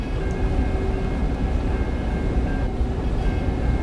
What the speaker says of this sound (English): Now arriving on track 2 is a Philadelphia Limited, Northbound local train to Philadelphia